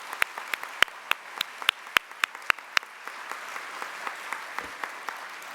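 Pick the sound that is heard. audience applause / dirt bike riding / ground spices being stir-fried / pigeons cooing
audience applause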